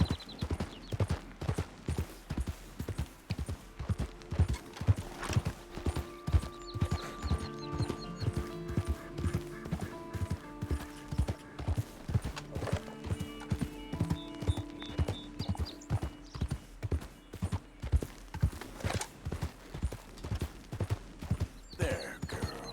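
Horse hooves clip-clop at a steady trot in Red Dead Redemption 2, a regular rhythmic beat running throughout, close and clear under music, with a brief whinny possible.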